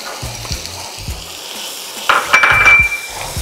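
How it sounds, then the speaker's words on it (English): Chopped onions hit a hot pan of melted butter with a sudden loud sizzle and hiss, preceded by a few low knocks and clinks of utensils against the pan; no one speaks. "I'm going to add my chopped onions."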